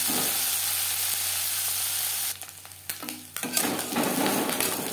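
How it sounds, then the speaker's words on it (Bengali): Small fish frying in refined oil in a pan, a steady sizzle for the first half, then a brief clatter and stirring before the sizzling resumes, louder and more crackly, close up. "ছোটো মাছ অল্প অল্প করে ভেজে নেব"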